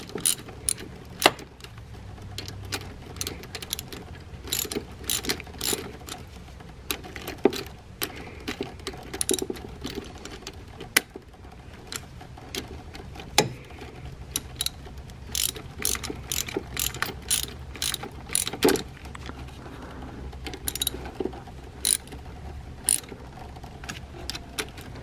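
A ratchet crimping tool cranked onto car battery cable terminals: steady runs of close clicking pawl ratchets with short pauses, repeated over about twenty-five seconds, no talk.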